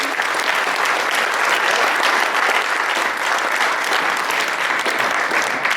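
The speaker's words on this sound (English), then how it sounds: "Give them a round of applause, please." Audience applause at a chamber of commerce banquet in Schuyler, Nebraska, a dense, even wash of clapping from a large crowd held steady throughout.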